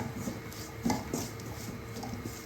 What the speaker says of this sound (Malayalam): നല്ല രീതിക്ക് നമ്മൾ ഇളക്കിയെടുക്കണം